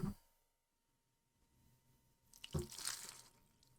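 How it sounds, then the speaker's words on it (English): Cold water spills and splashes in a short, sharp burst after a brief drip and a quiet pause, close and fairly soft, with no talk. "That was a lot of cold water that fell onto my crotch"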